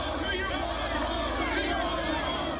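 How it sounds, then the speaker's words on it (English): A dense, roaring crowd of angry demonstrators and residents gathered outdoors near Broadway and Pine Street, shouting and chanting together as one steady, loud wash of voices with no pauses. "an angry crowd of demonstrators mixed with residents are near Broadway and Pine Street"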